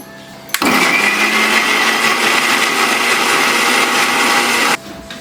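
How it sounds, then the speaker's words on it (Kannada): A mixer grinder grinding grapes into paste switches on abruptly, whirs loudly and steadily for about four seconds, then cuts off. "ಇವಾಗ ಇದನ್ನು ಮಿಕ್ಸಿಗೆ ಹಾಕೋಬೇಕು ನಾವು ಇದನ್ನ ನುಣ್ಣಗೆ ಪೇಸ್ಟ್ ಥರ ಮಾಡ್ಕೋಬೇಕು"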